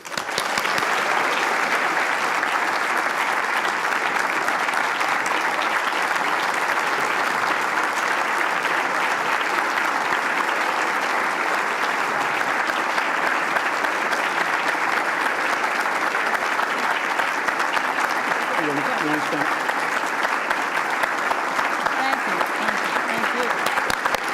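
A large audience gives sustained, even applause after a keynote address at an annual meeting, a steady wash of clapping from a full hall lasting the whole stretch without letting up.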